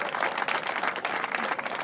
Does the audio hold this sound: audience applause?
yes